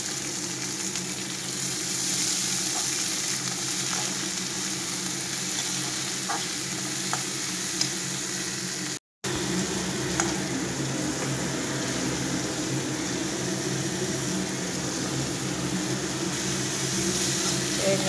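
Spinach leaves frying with onion in a pan, a steady soft sizzle and hiss that carries on throughout, broken by one brief dropout midway, with faint occasional clinks and no talk.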